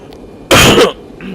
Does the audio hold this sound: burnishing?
no